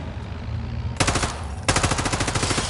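Machine gun fire in the Call of Duty Modern Warfare 3 video game, two loud sustained bursts of rapid rattling shots after a moment of low ambient rumble, no voices over it.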